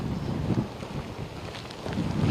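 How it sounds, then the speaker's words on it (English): Strong hurricane wind gusts from Hurricane Ian in Sarasota County, Florida, roaring and buffeting loudly against the microphone in continuous rough surges with no speech. "These wind gusts really have not stopped continuing just to come in here in Sarasota County."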